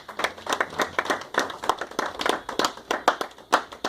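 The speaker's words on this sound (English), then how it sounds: "please give another hand of applause to them" A small audience at a church Valentine's Day couples' dinner claps, with distinct individual hand claps in an uneven, sparse rhythm rather than a dense roar, moderately close.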